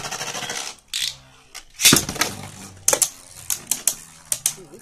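Beyblade spinning tops clashing in a battle arena, giving bursts of sharp metallic clicks and rattling hits after a loud launch, with repeated quick impacts close by and no speech.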